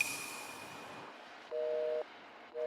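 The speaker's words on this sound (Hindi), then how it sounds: "फोन डेड हो गया है।" A phone line goes dead after a call, a faint tone fading out and then giving way to two short, steady electronic beeps of a busy or disconnect signal, heard alone.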